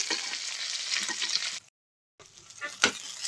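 Tomatoes fry in a pan for an Assamese taro-leaf and bombay duck fish dish, giving a steady close sizzle with stirring scrapes. The sound cuts out briefly, then the sizzle resumes with a louder clatter near the end.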